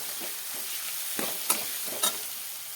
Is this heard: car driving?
no